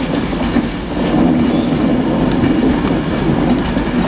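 A Class 390 electric train pulls into Manchester Piccadilly station on the West Coast Main Line, arriving from London Euston, with a loud continuous rumble of wheels on rail and faint squeal, steady and close throughout.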